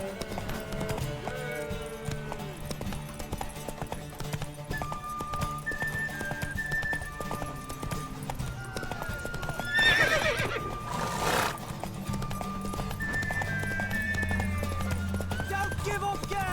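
Horse neighing and whinnying with clip-clop hooves in The Witcher 3 video game, a horse race with game music and spoken character dialogue over it; a louder whinny rises near the middle.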